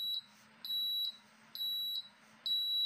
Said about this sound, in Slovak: chvíľku to reaguje a začne pípať, ten kód je 5